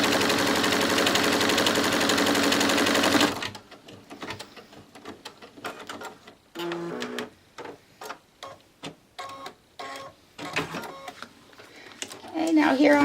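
An embroidery machine stitching down a zipper on an in-the-hoop bag, a rapid series of mechanical ticks and clatter after a loud noisy opening, with a person talking over it.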